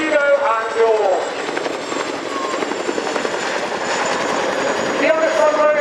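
Chinook helicopter at an air show carrying a roughly two-ton underslung load of troops, its rotor and gearbox drone steady and loud throughout, with a commentator's voice over the top.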